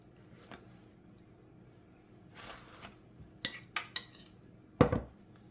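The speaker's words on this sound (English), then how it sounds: "now we'll just spread the aioli on both sides" A knife scrapes and taps as aioli is spread back and forth on bread for a Vietnamese banh mi, several sharp clinks and scrapes building toward the end, close and fairly quiet.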